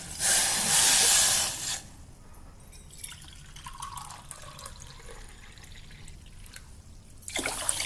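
Water is poured into a pot with sugar for rasgulla syrup, a loud close gush at the start, then quieter trickling and drips, with another pour at the end.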